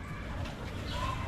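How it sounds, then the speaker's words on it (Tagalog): Birds and chickens cooing and calling outdoors in a rural province yard, faint and moderately distant over a soft background hum, with a hint of a voice. "Dinig mo yung mga ibon,"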